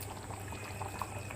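Fish curry simmers in a pot on medium heat, a close, continuous bubbling with small pops throughout and no voices.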